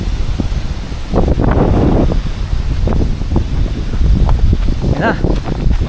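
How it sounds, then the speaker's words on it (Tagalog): Strong gusting wind buffets the microphone near a mountain summit in Aroroy, Masbate, roaring in uneven bursts while people talk faintly beneath it. "ang lakas lang ng hangin"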